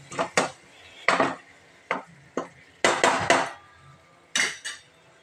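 A metal spoon scraping and knocking in a pan while tomato curry with chicken masala is stirred: about a dozen sharp clinks in irregular bursts, close and clear, with no talk.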